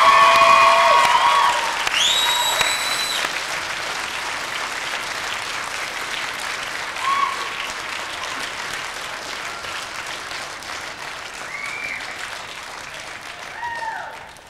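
A graduating class at a 1997 high school graduation ceremony applauds, loud clapping and crowd noise at first that settles into a softer, sustained wash of applause with faint tonal sounds over it.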